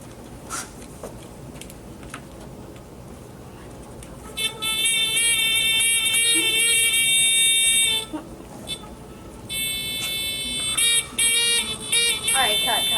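A littleBits buzzer module on a spinning Saturn model at a children's electronics camp gives bursts of shrill, high buzzing that start and stop twice, with voices talking underneath.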